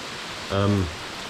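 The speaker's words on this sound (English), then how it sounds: "As you can tell, it's raining quite heavily" Continuous heavy rain at night on Mount Fuji makes an even wash of noise, and a short vocal sound rises over it.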